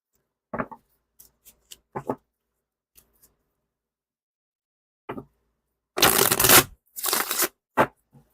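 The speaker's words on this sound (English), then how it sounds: "Okay, Robin, we'll get a good shuffle" Tarot cards are shuffled by hand in short bursts: scattered soft taps and flicks early on, then two longer riffling shuffles close up, followed by a couple of quick card snaps.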